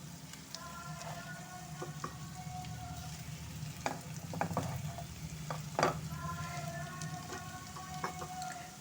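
Fried fish tossed in a pan with lemon tempering, giving a faint, steady sizzle broken by spatula clinks and scrapes, with a louder clatter midway.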